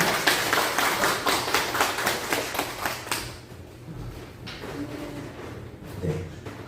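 Church congregation clapping to welcome a guest preacher at a Sunday service, a steady burst of rhythmic clapping for about three seconds that then fades into quieter room noise with scattered taps.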